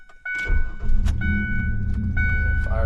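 A 2002 Ford Ranger engine cranks and fires up close by in hot weather, then settles into a steady idle hum with a few faint clicks over it.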